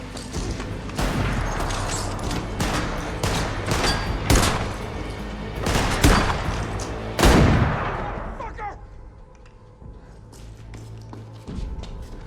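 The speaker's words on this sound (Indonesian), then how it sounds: "Joel berhasil menembak satu orang penyintas lagi yang berada di dalam" Shootout gunfire in The Last of Us video game, a burst of sharp, loud shots at irregular intervals with a few heavy booms, then a quieter stretch with scattered clatter and movement.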